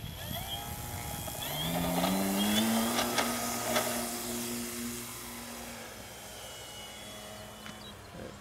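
Tower Hobbies Uproar V2 RC airplane taking off, its electric motor whining and rising in pitch as it climbs away, then holding a steady drone that fades slightly with distance, alone without talk.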